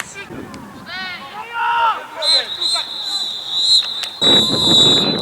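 Fireworks rockets go off outdoors at a football match: a thin whistling tone rises and holds, then a loud crackling burst, with people talking throughout.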